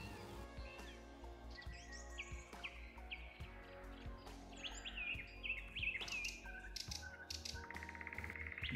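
Forest birds sing in a busy, layered chorus: several species chirp, trill and whistle over and between each other at varying distances, with a steady low rumble underneath and no one talking.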